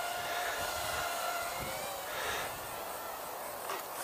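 A small XK X100 RC helicopter hovers nearby with a steady, buzzing rotor and motor whine that dips slightly in pitch as the throttle eases, continuous throughout with no talk.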